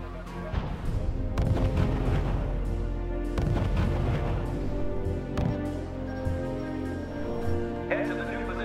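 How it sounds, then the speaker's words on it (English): Artillery and gunfire in the real-time strategy game R.U.S.E., several heavy booming shots and cracks in quick bursts over a droning engine rumble, with a brief radio-style voice line near the end. "Unit opening fire on the enemy."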